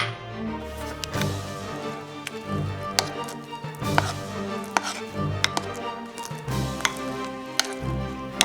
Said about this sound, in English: Now we're gonna add a little bit of milk and mix again.